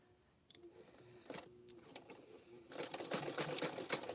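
A sewing machine stitches rope for making tea cups, starting and stopping in short quiet bursts before settling into a louder, continuous run of rapid mechanical ticking.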